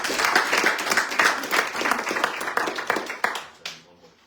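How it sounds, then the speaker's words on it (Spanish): A church congregation breaks into loud applause, a crowd of hands clapping briskly with some sharper individual claps standing out, then tapering off and fading at the end. "Denle un fuerte aplauso a Dios, amado hermano."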